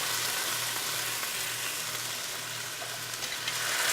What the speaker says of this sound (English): I'm going to go ahead and add my homemade tomato sauce from the summer